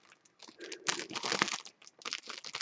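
Crisp crinkling and crunching of a yarn package being cut and torn open with scissors, a series of close rustling snips and rips with short pauses.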